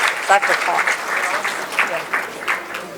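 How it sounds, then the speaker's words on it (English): An audience at a keynote speech breaks into brief applause, scattered claps rising and fading under a speaker's voice. "Give yourself a round of applause."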